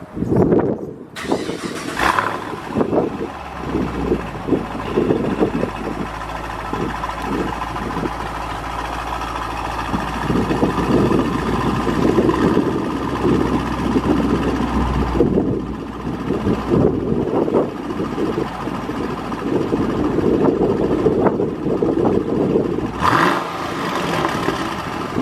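A Chevy SS sedan's LS V8 engine idles with a low rumble, then revs up several times in bursts before settling back, with some wind noise on the microphone.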